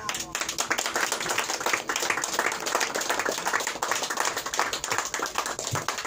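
Sustained applause from a concert audience, dense steady clapping filling the room for several seconds, with some crowd voices mixed in underneath.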